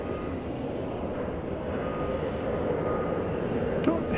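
A Cessna 208B Cargo Master turboprop rumbles steadily at an airport, a constant broad drone at moderate distance with no talking over it.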